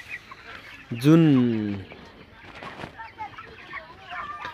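Broiler chickens kept on a poultry farm let out one loud, drawn-out call followed by softer scattered clucks, and a voice briefly speaks nearby.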